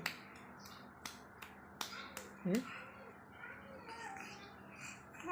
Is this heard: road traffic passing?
no